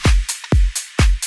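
In an FL Studio electronic track, punchy booming kicks land twice a second, each paired with a quiet, bright hi-hat layer, giving a tight, repeating kick-and-hat pattern with no voices.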